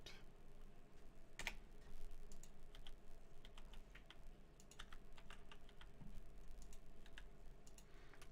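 Fast, uneven typing on a computer keyboard, with quiet clustered key clicks running continuously over a low background hum.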